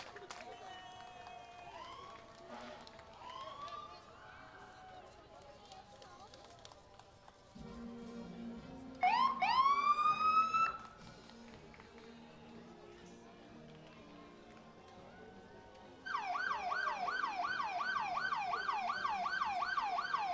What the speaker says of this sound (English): Rolling up next is Medic Ambulance.